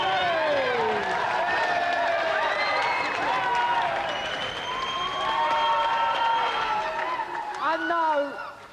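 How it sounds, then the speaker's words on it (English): A television game show studio audience claps and cheers for a champion, a dense roar that fills the stretch under a spoken voice and fades near the end. "Another round of applause for our champion, Alex!"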